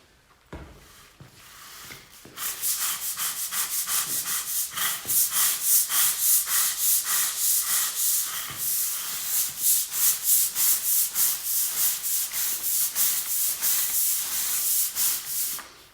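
A stiff brush scrubs a stain on a shop surface worked with Super Clean cleaner and degreaser, giving a fast, steady run of close, loud rasping strokes that continues for most of the stretch after a quiet start.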